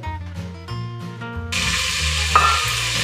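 Chicken sizzles in a hot pan with onion, tomato and spices for a bhindi gosht salan; a steady bright frying hiss starts partway through over background music, with a stirring scrape near the middle.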